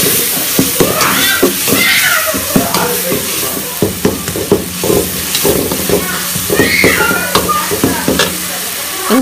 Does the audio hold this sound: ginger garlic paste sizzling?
yes